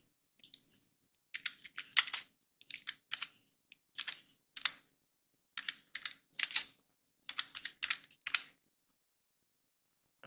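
Someone types a name on a computer keyboard, producing bursts of quick, close clicking keystrokes with short pauses between groups, no talking.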